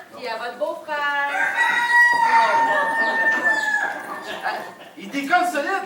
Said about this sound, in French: Savez-vous comment ça se règle, un coq, Bernard?